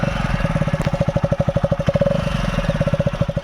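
Hero Splendor Plus motorcycle engine fitted with a Coke-can exhaust idles close by, a steady, loud, rapid put-put pulse of even exhaust beats running throughout with no speech.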